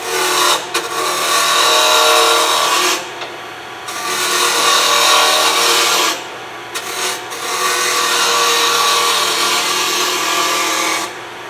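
A wood lathe turning a scoop on two axes while a gouge cuts it, giving loud sustained rushing and whirring in three long bursts with short pauses between, close by.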